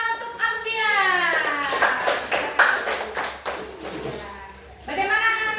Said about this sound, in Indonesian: Iya, beri tepuk tangan untuk Alfian.